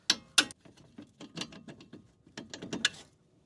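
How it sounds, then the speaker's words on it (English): Studs being removed during strut replacement on a 2006–2012 RAV4 4WD suspension: sharp metallic clicks and ratcheting taps in irregular bursts, close and fairly quiet, with no speech. "we're going to just remove these studs"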